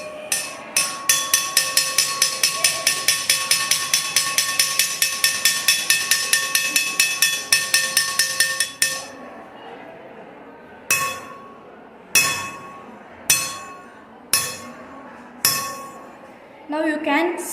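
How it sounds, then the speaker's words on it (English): A spoon strikes the rim of a plate: a fast run of bright, ringing clinks for about nine seconds, then five separate, louder strikes spaced apart, each ringing out and fading. "we have to hit the rim of the plate with the spoon"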